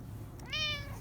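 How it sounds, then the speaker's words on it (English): A pet cat gives one short, rising meow while being petted, fairly soft and close, heard alone over faint low room hum. "What a nice little kitty cat."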